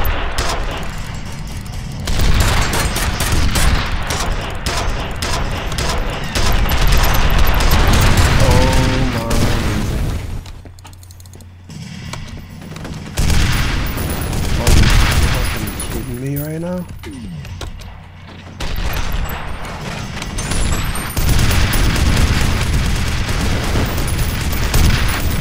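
Gunfire and rocket blasts from a robot enemy in the game F.E.A.R. come as dense, heavy bursts and booms through most of the stretch, with brief lulls, while someone talks over the action.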